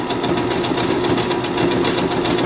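A sewing machine runs steadily at close range on a beginner's first sewing attempt, its needle mechanism producing a fast, even mechanical chatter with no talking.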